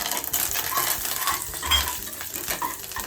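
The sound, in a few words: mustard seeds and curry leaves sizzling in oil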